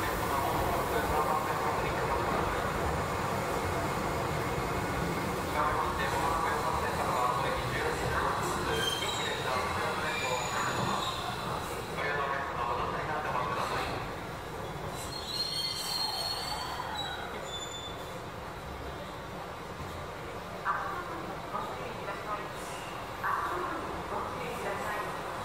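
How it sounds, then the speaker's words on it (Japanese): A Tobu Skytree Line train pulls out of Tokyo Skytree station with a loud, continuous rumble and high wheel squeal that ease into a quieter rolling sound as it moves away. "乗ってきた列車をお見送りします。"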